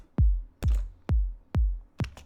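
Five punchy kick drum hits with processing switched off, from a deep trance / chill house production, evenly spaced and loud, each a sharp attack with a long booming low tail.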